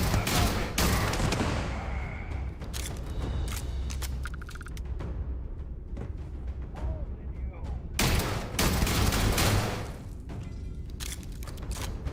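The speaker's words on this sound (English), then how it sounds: "But yes, explosive rounds can be incredibly devastating." Explosive rounds fired in the video game Starfield come as loud, booming gunfire bursts and blasts, with dense rattling shots and heavy explosions layered over game ambience, strongest at the start and again near the end.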